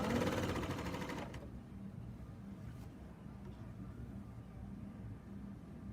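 A serger stitching quilt binding runs in a fast burst for about a second, then stops, leaving a low rumbling hum underneath.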